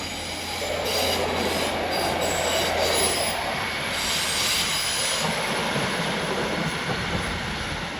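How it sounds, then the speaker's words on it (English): Class 150 diesel multiple unit 150211 pulls away from Doncaster station, a steady rumbling roll of engine and wheels with a thin squeal of wheels on rail, holding a fairly loud, even level throughout. "Heading off there is the 150, 15211 to Addick"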